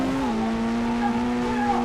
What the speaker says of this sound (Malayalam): ഞാൻ ലംബോർഗിനി V3 ആക്കിയിട്ട് പറപ്പിക്കുന്നത്.